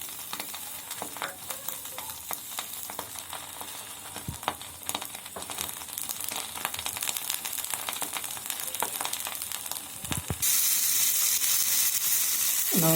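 Sustained frying crackle of an egg sizzling in hot oil in a pan for a half-boiled egg sandwich, steady and close, with a brief clatter of stirring, swelling to a louder, denser hiss near the end.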